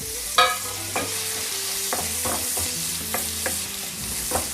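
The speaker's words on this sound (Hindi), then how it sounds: "ऑयल हमारा जब गर्म हो जाएगा तो उसमें मैंने एक मीडियम साइज़ का प्याज लिया था, इसको मैंने रफली चॉप कर लिया था, वो इसमें ऐड करेंगे।" A roughly chopped medium onion fries in hot oil in a pan for pasta, a continuous close sizzle punctuated by repeated clinks and scrapes of a spoon stirring against the metal; no voices.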